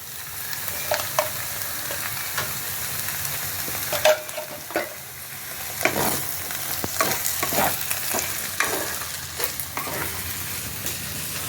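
Sabudana poha sizzles gently in a pan while a spoon stirs and scrapes it at an uneven pace, close up and steady throughout, with occasional sharper knocks against the pan.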